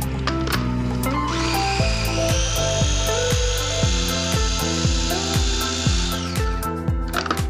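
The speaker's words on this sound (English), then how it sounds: "And then that just goes all into our processor." Food processor whirring as it chops chili jam ingredients: a loud, steady high motor drone with rhythmic thumps of food hitting the blades, sustained for several seconds before cutting back toward the end.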